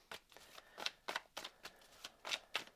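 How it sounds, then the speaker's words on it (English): Repeated crisp riffling bursts of tarot cards being shuffled, about eight quick rustling flurries in an irregular rhythm, close and clear with no talking. "One more shuffle for good luck."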